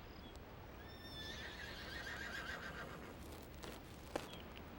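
A horse gives a long, rising and then wavering whinny at moderate distance in a quiet outdoor setting, followed by a couple of faint thuds.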